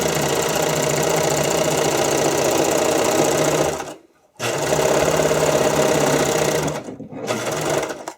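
An electric sewing machine stitching stretchy fabric into skate covers, a loud, fast mechanical whir with rapid needle knocking that stops abruptly twice for short pauses before running again.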